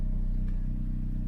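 A turbocharged Toyota Corolla engine idles while warming up, a steady low, even hum with a regular pulsing rumble, close and continuous without revving.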